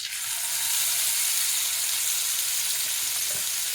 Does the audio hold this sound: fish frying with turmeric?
yes